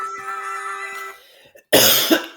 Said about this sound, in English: that's a bad cough